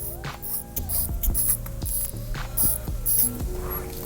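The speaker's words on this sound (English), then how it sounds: "If you could hear that when I wind it up." Crown of a Sanford MKII dive watch being wound, giving a rapid run of small mechanical clicks and ratcheting ticks, close up and fairly steady over a few seconds, with no talking.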